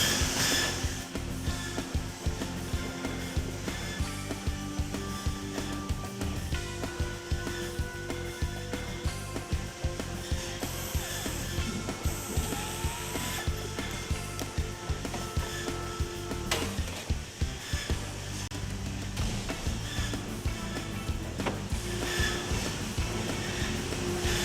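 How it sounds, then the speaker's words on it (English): Automatic feed bandsaw resawing cedar blocks corner to corner into shakes in a mill, a steady dense roar of blade and machinery running continuously with no pauses. "They are then run through an automatic feed bandsaw, which will cut it corner to corner and make 2 shakes"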